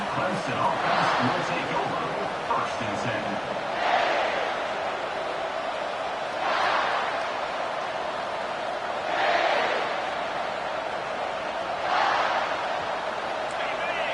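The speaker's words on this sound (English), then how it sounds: "This crowd bringing an ear-splitting welcome to their visitors." A packed football stadium crowd roars in waves that swell and fade every few seconds, loud and continuous beneath a commentator talking throughout.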